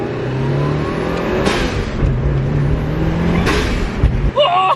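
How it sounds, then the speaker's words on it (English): A Mitsubishi Evo 8 engine revs steadily with a fitted blow-off valve, a loud close drone with a couple of rising surges and a brief hiss near the end, and a voice heard faintly. "You're actually gonna love this BOV."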